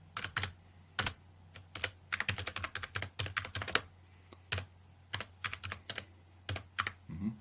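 Typing on a computer keyboard, close and clear, with quick irregular bursts of key clicks and short pauses between groups of strokes.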